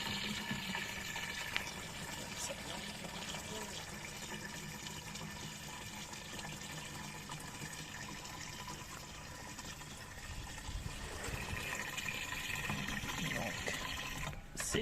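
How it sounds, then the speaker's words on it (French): Rainwater runs steadily from an opened garden irrigation tap, a continuous rushing stream that swells slightly near the end, recorded close by outdoors. "je vais ouvrir ce robinet pour voir si ça va couler"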